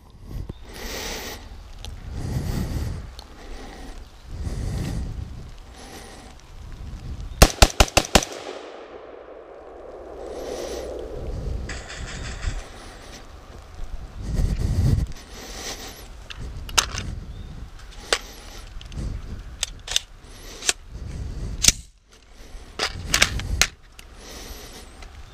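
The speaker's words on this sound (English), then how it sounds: "I'm just gonna be shooting off the rest of my 9mm rounds that I brought" Shots from a 9mm handgun and a shotgun ring out at an outdoor range, loud reports spaced irregularly with a quick rapid burst near the middle and echoing tails.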